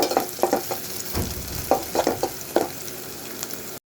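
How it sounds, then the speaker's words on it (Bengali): Sliced onions frying in a pan as they turn brown for a vegetable and dried-fish curry, a steady sizzle broken by several sharp scraping stirs of a spoon against the pan, close and fairly loud with no talking. "আমার এখানে পেঁয়াজ কিছুটা বাদামি কালার হয়ে আসছে"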